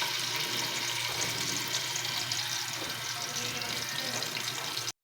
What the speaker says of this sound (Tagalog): nagisa na yung bawang sibuyas